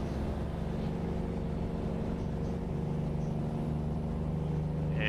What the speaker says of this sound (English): I am in a Kenworth T600